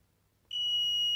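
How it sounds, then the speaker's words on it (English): A LaserLiner contactless voltage detector starts a single steady high-pitched beep partway through, sounding alone after a near-silent start and holding on until the end. "beeping on the neutral, beeping on the live"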